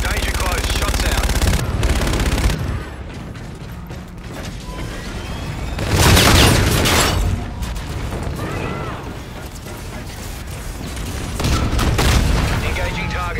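Gunfire and booming explosions from the Call of Duty: Infinite Warfare battle, heavy bursts with loud blasts around six and twelve seconds, mixed with mechanical clatter and radio-style voices talking throughout.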